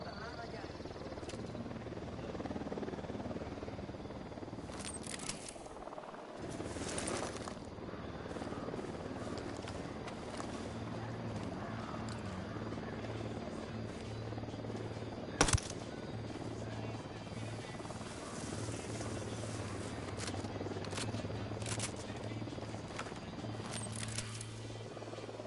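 Aircraft approaching in the video game Ghost Recon Wildlands: a steady, droning engine roar with a helicopter-like throb holds throughout, with game sounds and a brief sharp click over it, and no talking.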